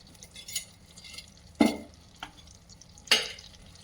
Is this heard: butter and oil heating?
yes